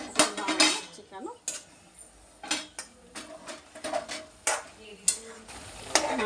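A spoon stirs chicken curry with tomato in a pot, giving repeated close scrapes and sharp metallic clinks in an uneven rhythm with a faint sizzle between strokes.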